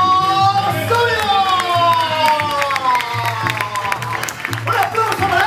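Concert audience applauds and cheers for a performing band, sustained clapping and crowd noise while sustained musical tones and a voice carry over the top.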